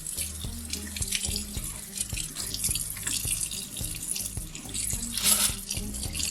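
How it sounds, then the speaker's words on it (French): Water from a kitchen tap runs over a sieve, a steady splashing hiss with irregular drips and patters on the mesh, close and continuous with no talking. "Rincer un tamis sous le robinet n'est pas facile, l'eau ne touche qu'un seul endroit."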